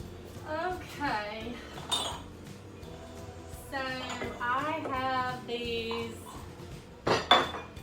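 Small sets of china dishes, including Buffalo China pieces, clinking and clattering as they are handled and stacked in a kitchen cabinet, with intermittent close ringing clinks and a sharper clatter near the end.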